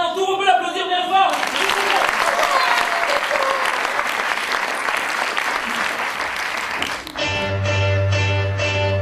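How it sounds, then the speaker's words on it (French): An audience at a French song show claps loudly for several seconds, a dense burst that begins after a short musical sting and breaks off into an instrumental chord. "on peut l'applaudir bien fort"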